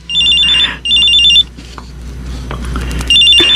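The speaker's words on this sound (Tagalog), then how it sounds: "nagre-ring ang cellphone niyo" A mobile phone rings nearby in repeated bursts of a bright electronic tone, with short gaps between them and faint room sounds, no speech.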